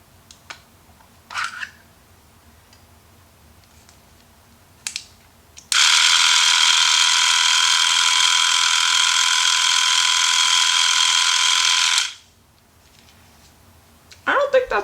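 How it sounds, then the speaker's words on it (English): An electric sonic detangler hair brush runs with a steady, loud mechanical whir and bright high hiss for about six seconds, starting and stopping abruptly, with quiet clicks before and after. "I'm just going to turn the brush on for you guys so you can hear it for yourself"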